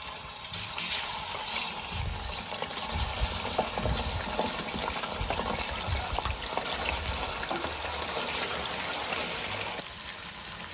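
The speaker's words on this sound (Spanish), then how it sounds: "Ya una vez que ya está caliente el aceite, le voy a poner la carne." Pork ribs sizzle in hot oil in a pan, a steady dense crackling hiss that runs continuously at moderate level with no talking over it.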